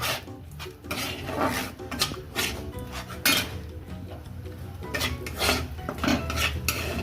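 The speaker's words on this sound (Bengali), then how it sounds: "একটু করে দিতে হবে আর একটু করে নাড়তে হবে" Prawn curry in a pan being stirred as coconut milk is added, with a spoon scraping and clinking against the metal in irregular, fairly close strokes, no talking.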